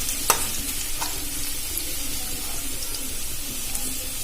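Potatoes fry in a pan for a Bengali flattened-rice pulao, a continuous close sizzle with a few sharp stirring clicks and scrapes against the pan.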